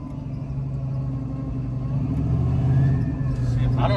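A Jeep Trackhawk engine revs in a workshop, a heavy steady low rumble that swells slightly as the RPM climbs, close and loud throughout.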